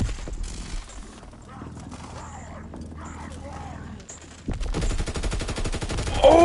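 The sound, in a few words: gunfire from a gun in a video game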